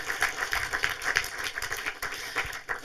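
An audience at a film screening talk applauds a director and screenwriter: continuous, even clapping from many hands, moderately quiet and slightly distant, with no voices over it.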